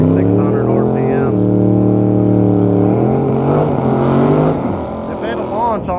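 A GT45-turbocharged 5.3 drag car launches down a drag strip at a bracket race, its engine a loud, close, sustained roar whose pitch climbs and shifts through the run.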